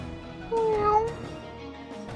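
A cat gives one clear, drawn-out meow near the microphone, rising and then falling, over a quiet background.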